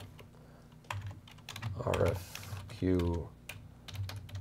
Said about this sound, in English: I can add a quick note here, type into the box here